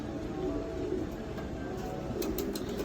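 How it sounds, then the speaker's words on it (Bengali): Pigeons outside a racing pigeon loft give soft, low cooing that sits under a steady background hiss, faint and continuous rather than sharply separated calls. "এই যে বাইরের কবুতরগুলো একটু দেখায় দিই আমি এই ফাঁকে।"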